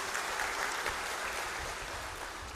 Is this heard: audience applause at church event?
yes